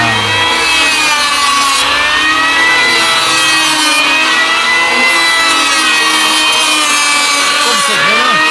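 An electric wood planer runs continuously during repair work on old, decaying timber, a loud steady whine and rasp with shifting pitch as the blade bites the wood, close and unbroken throughout.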